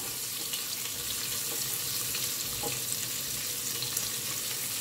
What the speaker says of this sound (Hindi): सो हांगासर एक 2 मिनटां कांदे हांवें फ्राय करून घेतला